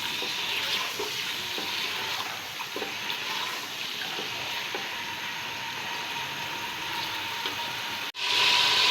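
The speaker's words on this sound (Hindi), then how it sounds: "अब ये जो गोश्त है इसका कलर चेंज हो जाए इतना हमने इसको भूनना है" Beef browning in a pot for Hyderabadi beef haleem gives a loud, constant frying hiss that lasts for several seconds, then briefly cuts out and returns, with no voices.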